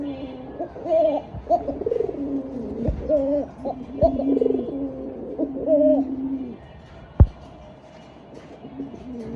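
Pigeons at a market stall give repeated soft, throaty coos in close, rhythmic phrases, with a few sharp knocks and some quiet background noise.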